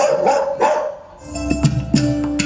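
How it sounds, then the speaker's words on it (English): A dog barks a few times in short, sharp bursts, with a brief pause between them, fairly close and loud. "shot arrows to stop the dog from barking"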